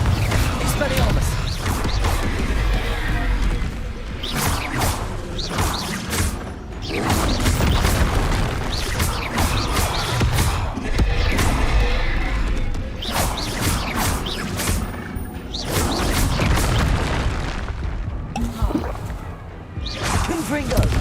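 Spell explosions in Hogwarts Legacy: repeated booming blasts, crashes and whooshes in rapid succession throughout, loud and dense, with a voice talking over the combat.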